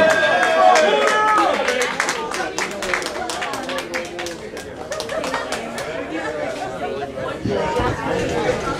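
A comedy club crowd in Savannah claps, whoops and chatters as comedian Pooty Love is brought on stage, a dense steady wash of applause and crowd noise that thins slightly toward the end.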